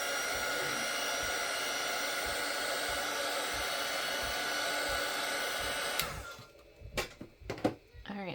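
A hair dryer blows a loud, steady roar to dry watercolor and ink on a small garden-themed art piece, then cuts off abruptly, leaving a few light taps and clicks close by.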